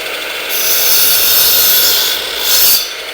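A power saw cutting through a piece of wood for a DIY storage build, a loud continuous whining buzz that swells as the blade bites and dips briefly before a second surge.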